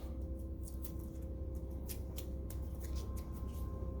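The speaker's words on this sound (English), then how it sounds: "Pull the tape off," Tape being peeled off a braided -6AN fuel hose gives a run of dry, crackling rips and ticks over a steady low workshop hum.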